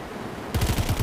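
A sudden burst of rapid automatic gunfire cuts in halfway through, loud and close, as zombies are shot in a mobile game.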